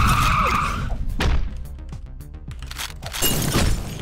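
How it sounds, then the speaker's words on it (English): A car in the Hotline Miami video game: a loud, harsh burst of engine roar and skidding with crashing, breaking noises, swelling and fading over a few seconds before the noise surges again. "I hope you guys like that fucking car noise"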